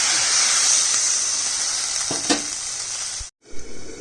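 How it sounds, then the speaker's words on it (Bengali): Water poured onto frying bottle gourd greens bursts into a loud, hissing sizzle that fades slowly, then cuts off briefly before a few softer bubbling sputters return. "শাকটা সবজিটা ভাজা হয়ে গেছে জল দিয়ে দিচ্ছি"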